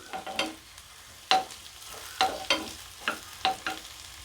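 Chopped onion and green chilli are stirred in a hot pan of tempering spices, with a soft frying sizzle underneath and a series of sharp spatula scrapes and taps at irregular intervals, close by and alone.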